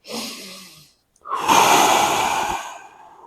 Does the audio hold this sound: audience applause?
no